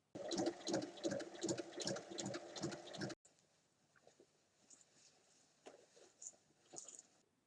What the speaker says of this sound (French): Il reste à fermer la petite ouverture avec un point à la machine.